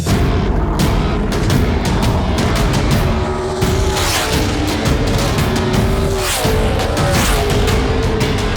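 A car running a smaller carburetor drives laps, its engine loud and close with repeated rising and falling revs as it accelerates and shifts, rough and continuous throughout.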